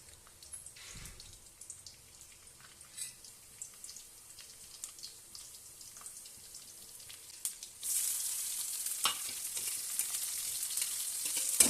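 Okra frying in a pan in a home kitchen, a steady sizzle that rises sharply partway through and stays loud and hissing, with faint clatter before it.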